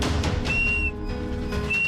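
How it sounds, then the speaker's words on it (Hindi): A man stranded deep in a ravine whistles, two thin sustained whistle tones separated by a pause, heard over a steady outdoor rumble. "सीटी बजाते रहे"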